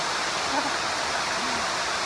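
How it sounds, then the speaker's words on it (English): Steady broadband roar of a waterfall on the Fiery Gizzard Trail, close and continuous, filling the whole moment without any voices. "We just went under that waterfall right there"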